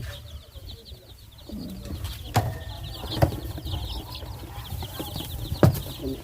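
High, thin peeping of Burmese-breed chicks under a heat lamp repeats in quick bursts over a low background hum, punctuated by a few sharp taps.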